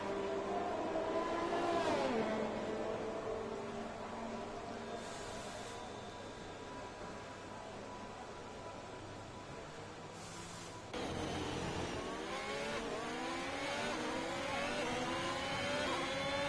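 Race cars in a racing video game roll back into the pits after qualifying at the Canadian Grand Prix, engines droning and rising in pitch, with several passes blending into a steady mechanical wash and a louder car sweeping through near the end.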